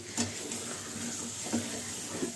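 Cluster beans (gawar phali) are stirred in a cooking pot over a low flame: soft scraping and wet stirring noises come in a few distinct strokes over a faint background sizzle, with no one speaking.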